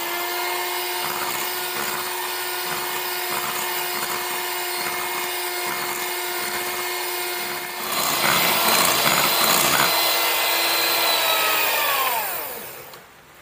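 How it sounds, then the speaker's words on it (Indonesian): An electric hand mixer beats egg yolks for an old-fashioned sponge cake, a steady high-pitched motor whine that grows louder and rougher partway through, then spins down and stops at the end. "Ini kita mau lanjut lagi mengocok sampai kental berjejak."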